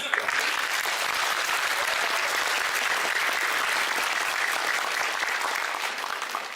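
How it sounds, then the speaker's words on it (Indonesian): An audience at an education talk applauds Anies Baswedan, a broad sustained roar of many hands clapping, even and continuous before easing slightly at the end. "Mari kita berikan tepuk tangan."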